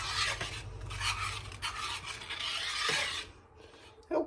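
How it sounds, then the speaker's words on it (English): A spoon stirs heavy cream into chicken pot pie filling, producing uneven scraping and swishing strokes that rise and fall, close and moderately loud, then stop briefly near the end. "I am going to add 1/2 cup of heavy cream. And mix that all in"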